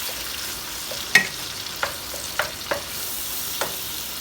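Two medium tomatoes are stirred in a hot kadhai, sharp spoon scrapes and taps ringing out a few times over a faint, low sizzle.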